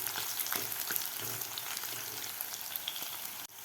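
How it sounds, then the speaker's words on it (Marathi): Chopped green chillies sizzle steadily in hot oil in a pan while cooking aloo gobi matar masala, giving a loud, continuous crackling fry with light stirring and no voices. "मिरची सुद्धा आपल्याला व्यवस्थित परतून घ्यायची आहे तेलामध्ये।"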